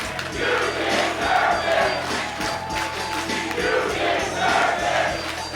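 A wrestling crowd at an independent New England show roars and cheers continuously, a dense, steady wall of voices with rhythmic swells, heard from within the arena.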